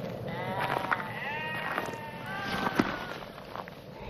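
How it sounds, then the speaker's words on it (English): A resting flock of about thirty sheep with a shepherd on a hot, dry plain, several overlapping bleats rising and falling at moderate distance over a steady background hiss. "lay about 30 sheep."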